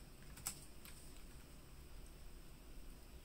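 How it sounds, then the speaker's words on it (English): Keys clack faintly on a Logitech G915 TKL low-profile keyboard, a few soft isolated taps near the start, then quiet hiss with only scattered light clicks. "something for you to notice me typing"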